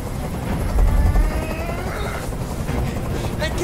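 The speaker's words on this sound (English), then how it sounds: "I can't stand that noise anymore! Tell that helicopter to get out of here!" Helicopter rotor noise in the video game Detroit: Become Human, a loud, continuous low throb with chopping texture running throughout while a voice talks over it.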